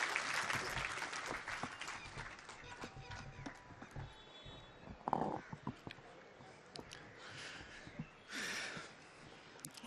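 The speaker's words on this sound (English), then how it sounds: "Can we have a huge round of applause for Justice Anil Dave" An audience applauds at a Supreme Court Bar Association farewell function honouring Justice Anil R. Dave. The clapping is faint and scattered, rising in bursts, with some murmured voices mixed in.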